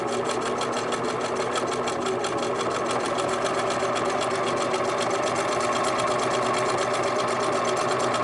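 A sewing machine runs steadily and loudly for the whole stretch, stitching appliqué onto quilting fabric with a fast, even mechanical whir and rapid needle rhythm.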